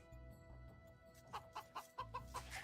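A person imitates chicken clucking, giving a run of short rhythmic nasal clucks in quick succession over a low background hum.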